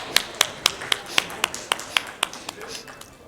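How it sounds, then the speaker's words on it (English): Sparse, sharp claps at a health awareness conference, a few distinct hand claps in a loose rhythm, fairly close and moderately loud, with no crowd wash behind them. "please give him a huge round of applause."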